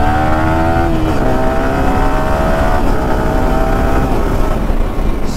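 A Yamaha R15 M motorcycle revs hard above 7000 RPM, its loud buzzing engine note climbing steadily, dropping sharply at a quickshifted gear change, then climbing again.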